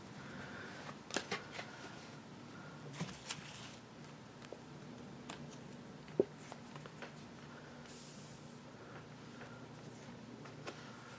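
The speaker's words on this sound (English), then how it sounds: "I'm shuffling the cards." Soft, quiet tarot card shuffling with light riffles and taps, a few sharper clicks scattered through an otherwise hushed room.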